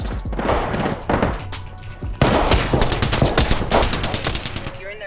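Rapid automatic gunfire rattles in a video game, dense and loud, with bursts and a sudden louder stretch midway; game voices are heard.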